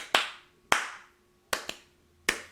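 Sharp hand claps from a song ring out alone in a sparse pattern, five crisp hits with short decays, two of them falling close together near the middle.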